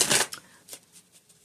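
A deck of cards is shuffled at close range: one loud riffle burst followed by several softer flicks and taps, with no talking over it.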